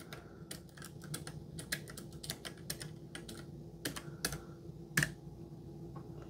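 A third-party keyboard connected to an iPad Pro is typed on in quick, irregular key clicks, fairly close and soft, with one sharper tap near the end and no talking.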